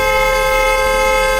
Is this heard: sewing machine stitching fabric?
no